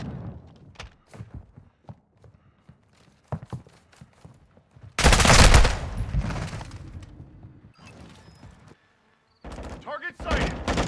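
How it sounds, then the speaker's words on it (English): Weapon fire in Call of Duty: Modern Warfare II, starting with scattered clicks and thuds, then a loud sustained burst of automatic gunfire in the middle and another sharp burst near the end, with talk mixed in. "I'm taking fire!"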